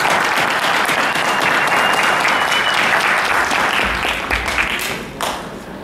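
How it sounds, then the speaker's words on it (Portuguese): An audience at a cultural seminar on tattooing in Mogi das Cruzes bursts into sustained, loud applause, many hands clapping densely and evenly before tapering off near the end. "uma salva de palmas para o polaco"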